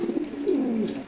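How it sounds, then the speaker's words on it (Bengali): A male Red Checkered pigeon coos close by in one low, soft, rolling call lasting about a second, with no other sound around it. "এখানে অ্যাকচুয়ালি সব নর কবুতর রাখছি চাপড়ির মধ্যে।"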